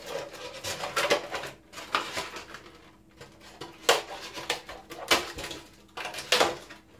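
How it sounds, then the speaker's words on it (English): Scissors snip and saw through a styrofoam egg carton, cutting it in half: close, dry, scratchy crunching in a series of irregular bursts with short pauses between, and no talking. "So I'm cutting my egg crate in half."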